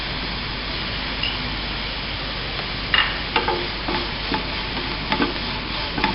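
Sliced onions with salt are stirred in a pan for egg bhurji. A constant sizzle runs under frequent spatula scrapes and taps that come in uneven bursts, close up, with no talk.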